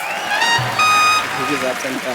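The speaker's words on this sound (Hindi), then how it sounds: "जोरदार तालियां" Loud applause from a studio audience at The Kapil Sharma Show, heard in brief bursts under a presenter's voice speaking over it.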